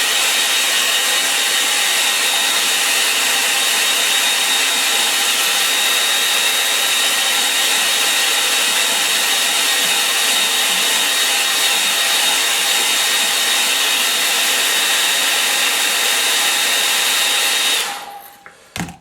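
A hair dryer blows over a watercolour painting of a Venetian scene, a loud, steady, close whirring rush that runs unbroken for about eighteen seconds before cutting off abruptly.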